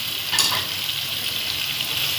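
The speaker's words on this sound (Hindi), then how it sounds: "और चनों को भी 1 से 2 मिनट हमें इसके अंदर जो है मिर्ची के अंदर अच्छी तरह भून लेंगे।" Chickpeas frying with chilies in a pan, a steady close hiss and sizzle of hot oil running throughout without pause, with no voices.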